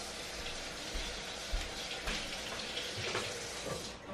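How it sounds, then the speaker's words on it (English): Tap water runs steadily into a kitchen sink as hands are washed before baking chocolate chip cookies, a continuous close splashing hiss with small irregular bumps and no talking. "So let me wash my hands over here."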